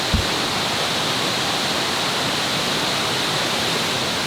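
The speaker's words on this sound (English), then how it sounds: "We're on top of the waterfall." A jungle waterfall in Bali roars in a steady, dense broadband rush that fills the whole recording, close and constant, with a brief soft bump at the very start.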